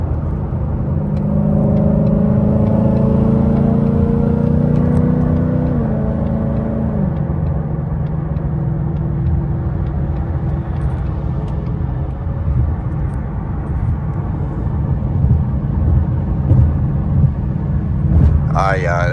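Steady engine hum and road rumble from inside a moving S550 Ford Mustang, continuous throughout, with a brief higher whine near the end.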